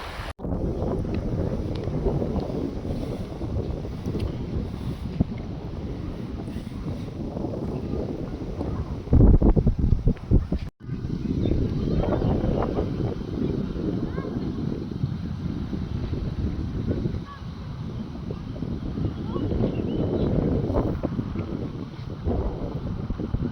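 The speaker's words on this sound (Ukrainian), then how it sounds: "тут сильніший вітер" Gusty lakeshore wind at Lake Pisochne buffets the microphone in a steady low rumble, with a brief sharper blast midway; faint talking may sit beneath it.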